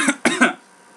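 Two or three quick, sharp coughs burst out close to the microphone in rapid succession, then fade into near silence.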